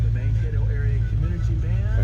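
A 1970 Ford Mustang Grande Coupe engine idles with a steady, low rumble, running continuously under radio voices playing in the car.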